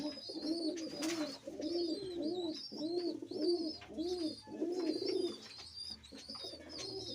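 Several white-and-steel-grey lakka fantail pigeons coo in steady repeated phrases, each soft rolling call following closely on the last, with faint higher chirps mixed in and no talking.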